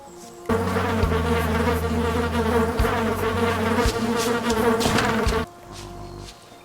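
A swarm of bees buzzes loudly and continuously in the video game Candle: The Power of the Flame, a droning insect hum that starts abruptly, holds for about five seconds, then cuts off to quiet game ambience.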